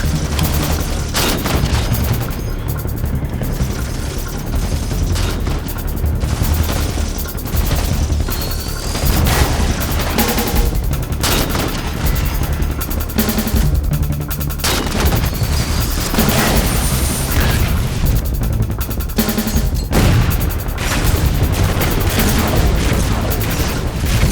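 Gunfire in a Halo 4 machinima battle: loud, dense bursts of automatic weapon fire and booming blasts overlap almost continuously, close and intense throughout with no pause.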